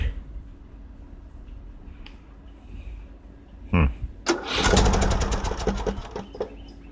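A John Deere LA105 lawn tractor engine cranks, then fires and catches near 4 seconds, running loudly and unevenly with a rapid chugging rhythm after the start.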